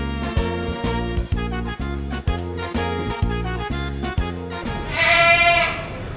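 A pet goat bleats in a Pakistani rural home, a nasal quavering cry heard close and loud, repeated in a steady rhythm of calls before a longer, higher wavering bleat at the end.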